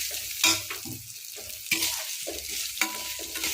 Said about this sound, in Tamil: தேங்காவை நம்ம இப்படி எண்ணெயில் சேர்த்து நல்லா வதக்கும் போது